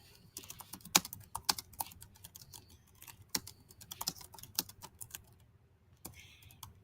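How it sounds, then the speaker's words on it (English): Notes being typed on a computer keyboard, a quiet, close patter of irregular key clicks with brief pauses between runs of keystrokes. "I'm ready to type my notes."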